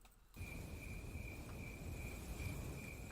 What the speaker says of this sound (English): Just crickets.